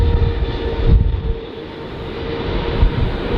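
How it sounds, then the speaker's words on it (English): An EVA Air Boeing 777-300 lands on runway 24 right at LAX, a loud, continuous roar of engines and rushing air heard from fairly close by at the airport. "let's have a listen to Eva, number 12, 777-300, 8 years old. Bravo, 16723."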